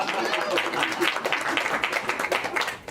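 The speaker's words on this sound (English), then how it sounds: "Applaud you. Applaud." A theatre audience at a live comedy show applauding, a short burst of dense, steady clapping from many hands that fades near the end, with some talking mixed in.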